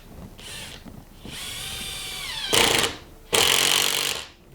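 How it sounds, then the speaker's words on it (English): A power driver sinks a wood screw into a wooden bowl blank for lathe mounting, a loud whirring motor whine in several close bursts, rising in pitch and strain as the screw bites deeper. "What I'm going to do is I'm going to put one screw in,"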